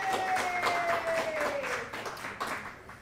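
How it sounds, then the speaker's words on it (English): Audience applause at a live charity telethon for Ranch Hands Rescue, a continuous patter of clapping with a sustained musical tone above it, easing off toward the end. "One more round of applause might be in order there, you bet."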